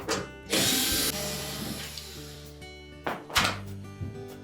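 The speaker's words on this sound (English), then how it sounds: "So next we'll remove 3 retaining screws under the bottom of that access panel." A power drill backs out the retaining screws on a Whirlpool washer's access panel, with short whirring bursts, a sustained motor run and a couple of clunks at close range, no talk.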